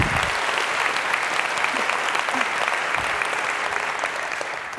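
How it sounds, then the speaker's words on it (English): Sustained audience applause at a lecture on black holes and gravitational waves, a thick, even wash of many hands clapping from start to finish, tapering slightly at the end. "Can I give them a little applause?"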